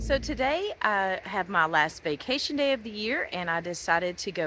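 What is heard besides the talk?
No distinct noise like a dog, phone or traffic.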